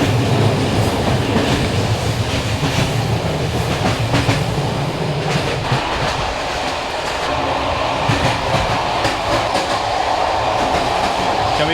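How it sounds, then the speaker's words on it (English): An old Bulgarian passenger train, about 50 years old, rumbles along the rails, heard loud from inside the carriage with a steady roar, rattling, and rhythmic wheel clatter over track joints. "This train is about 50 years old."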